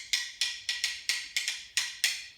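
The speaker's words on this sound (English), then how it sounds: "So I've got my wooden spoons." Wooden spoons knocked together as rhythm sticks give eight sharp, bright clacks in an uneven beat, close and clear with a quick decay and no voices.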